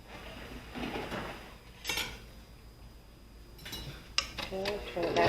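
A spatula scrapes down a mixing bowl of peanut butter and cream cheese: soft scraping strokes with a few clinks against the bowl, fairly close, quiet but clear.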